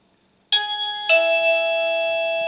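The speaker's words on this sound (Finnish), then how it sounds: "nyt kun vapautetaan tämä mikrokytkin, niin siitä pitäisi periaatteessa lähteä signaali ja tuo kello soi" A homemade mailbox alarm bell, set off by a microswitch, strikes suddenly and then strikes again a moment later, each ring leaving a clear, sustained metallic tone that hangs on, loud and alone.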